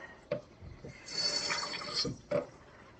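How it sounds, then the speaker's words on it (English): Small splashes of water drip and pour into a cooking pot, a few faint wet bursts over quiet kitchen background. "couple of tablespoons of water in there."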